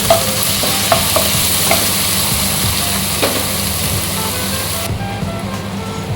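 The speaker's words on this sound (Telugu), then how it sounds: "ఇంకా 2 నిమిషాలు పచ్చివాసన పోయే వరకు వేయించుకోవాలి." Ginger garlic paste fries with chicken in a pan, giving a loud, steady sizzle close by, with faint scrapes and taps of a stirring spoon.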